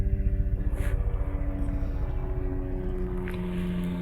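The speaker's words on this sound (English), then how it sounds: "we got a chopper coming over" A helicopter passes overhead outdoors in the wild, its rotor giving a steady low rhythmic thudding drone that holds fairly loud and even throughout, with no talk.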